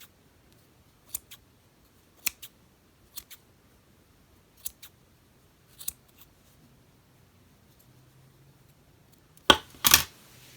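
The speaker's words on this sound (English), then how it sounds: "take your scissors and trim all those loops" Scissors snip through yarn loops to cut tassel strands, giving a series of sharp, close metallic clicks spaced about a second apart, followed near the end by a louder double snip.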